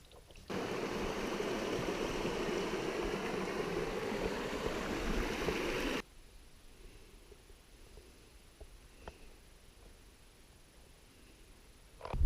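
River on an Algonquin Park canoe trip rushes as a loud, dense wash of flowing water for about five seconds, then cuts to a much quieter, faint background with small scattered sounds.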